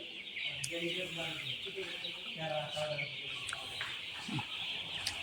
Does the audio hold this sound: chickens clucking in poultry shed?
yes